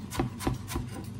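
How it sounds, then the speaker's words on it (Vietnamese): A knife chops green onions for a Vietnamese home-cooked dish in quick, evenly spaced strikes, about four soft, close taps with a brief scraping edge, alone without talk. "Băm hành lá."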